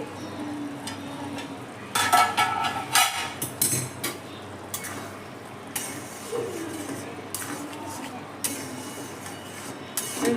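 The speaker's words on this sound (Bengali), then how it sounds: "কড়াইয়ের গায়ে যেগুলো লেগেছিল সেগুলোও কিন্তু আমি নামিয়ে নিয়ে খুব ভালো করে নেড়ে দিচ্ছি আরও একবার" Curry with capsicum and paneer being stirred in a kadai over a low sizzle, with repeated metallic scrapes against the sides in bursts, close and moderately loud.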